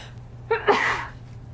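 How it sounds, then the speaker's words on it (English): A single close, sharp sneeze with a quick intake of breath before it, then a short breathy tail. "I'm gonna sneeze."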